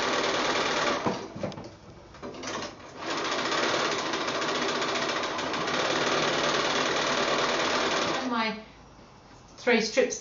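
A sewing machine runs in long, steady bursts, joining quilt block strips with a close, loud, rapid mechanical chatter. There are brief pauses between the runs, and a voice speaks near the end.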